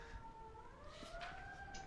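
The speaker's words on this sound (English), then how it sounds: "Please excuse the sirens outside the house." Faint sirens wail in the distance outside a house, two tones slowly rising and falling against a quiet background hum.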